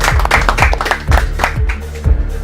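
A studio audience at a children's game show claps loudly and close for a winner, with dense steady applause and rhythmic heavy beats running through it.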